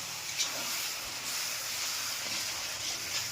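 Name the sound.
sizzling as water is added to frying tomato masala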